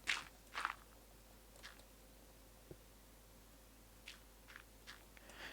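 Gravel crunches under footsteps in a video game mine, a couple of sharper steps at first then softer, sparse crunches spaced out over a quiet background.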